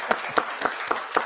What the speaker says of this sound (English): let's do that applause thing again